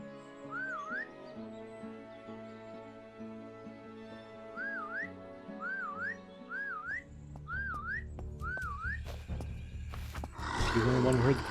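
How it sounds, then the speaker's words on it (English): A character in the survival video game SurrounDead whistles a repeated rising two-note call several times over game music, with a voice talking during part of it and a louder burst of game sound at the end. "I'm gonna whistle after we search this car."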